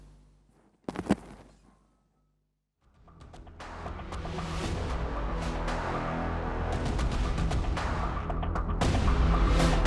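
Gunfire from a terrorist attack in Baghat Barzulla, Srinagar, Kashmir: one sharp crack, a short silence, then a long dense roar of rapid shots and booms that builds loud and continuous.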